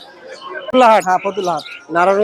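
Small birds chirp faintly in the background at the Fatullah bird and pigeon market, with parrots among the birds, while someone talks loudly over them.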